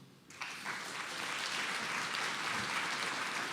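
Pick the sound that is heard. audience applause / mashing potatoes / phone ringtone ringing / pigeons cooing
audience applause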